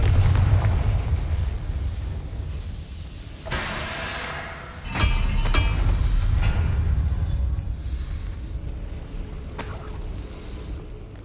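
Confringo blasting spell in Hogwarts Legacy, a fiery magical burst that hits with a sharp broadband crack and then rumbles low. A second strong blast follows a moment later, with a brief bright flare near the end. No voices are heard.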